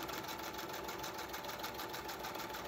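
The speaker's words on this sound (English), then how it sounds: "If you guys are looking for a sewing machine, I am still in love with this Brother." Brother beginner sewing machine stitching fabric in a steady, fast mechanical whir with a regular rapid needle rhythm, close and continuous throughout.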